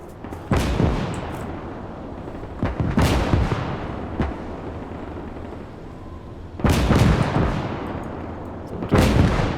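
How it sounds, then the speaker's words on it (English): Loud booming distant gunfire and explosive blasts in bursts in the WW2 video game Gates of Hell, with crackling reports and rumbling decay between them, like a battlefield. "I just love how you can hear like the gunfire in the distance."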